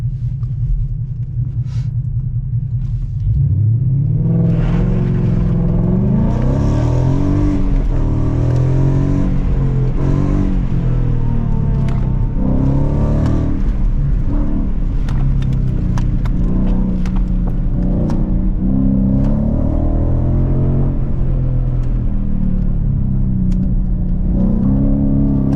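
A Ford Mustang accelerates and revs hard from inside the cabin, its engine rumble loud and continuous, swelling and falling through gear changes with no talk over it.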